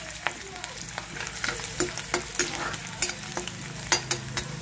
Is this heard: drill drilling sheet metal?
no